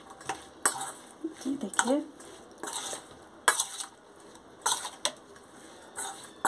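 Green chilli pickle being stirred with lemon juice, a spoon scraping and clinking against a metal bowl in uneven bursts, with a few short spoken words over the mixing.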